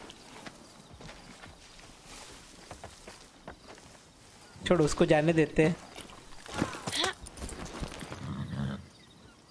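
Horse hooves clip-clop in a steady walking rhythm in the video game Far Cry 6 while people talk over them, with the voices growing louder midway.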